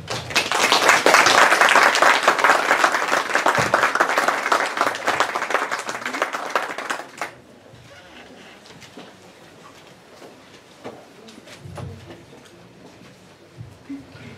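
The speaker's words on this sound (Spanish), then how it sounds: "Les pido un muy fuerte aplauso para él." Audience applause for an architect introduced as the evening's lecturer, loud and dense for about seven seconds before dropping away to a quiet room with scattered faint noises.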